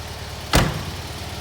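A Fiat 126p door swings shut with a single solid thunk, close and loud, followed by quiet.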